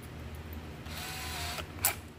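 Power drill with a 1/8 inch bit boring screw holes through the top cap of a DIY ice-fishing power box kit, a short whirring burst about a second long close to the mic, ending in a brief sharp click.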